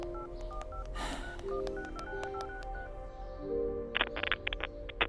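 Telephone number dialed on a keypad, a string of short electronic tones in uneven rhythm, then a denser burst of beeps toward the end over a faint background hum.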